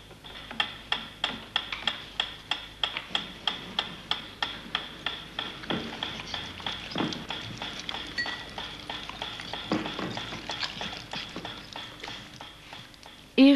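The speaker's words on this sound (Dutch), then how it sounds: "Hij liet een metronoom tikken." Regular, evenly spaced ticks like a metronome run for several seconds, strongest at first and then fading under a faint background, with a louder knock at the very end.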